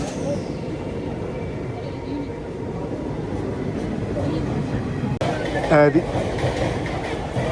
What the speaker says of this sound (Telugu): యాక్చువల్లీ ఏదో ట్రైన్ నెల్లూరు స్టేషన్ కొట్టిపడేస్తుంది.